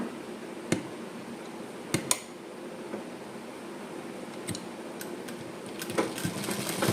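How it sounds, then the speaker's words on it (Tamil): A sewing machine runs a straight stitch along pant tape: a faint, steady mechanical whir with a few sharp clicks and ticks scattered through it. No one speaks. "இதை அப்படியே ஸ்ட்ரைட்டாக ஒரு தையல் போட போகிறோம்."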